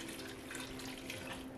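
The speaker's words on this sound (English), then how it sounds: "Next we'll add the water to allow this to calm down a little bit." Water pours steadily into a one-pot lasagna, a short faint splashing rush with no talk.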